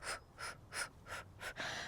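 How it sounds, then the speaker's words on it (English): Quick, forceful breaths come through the nose and mouth during a fast yoga core exercise, about six rhythmic huffs in under two seconds, close and fairly quiet. "move the hands up and down very fast, combining it with the breath like this"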